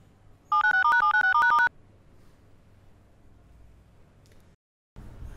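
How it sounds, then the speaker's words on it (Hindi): A rapid series of electronic dial tones plays as a phone number is dialed, then a quiet line hiss continues before a brief silence and a burst of noise. "ये फोन ले और उन्हें फोन मिला के दे मेरे को"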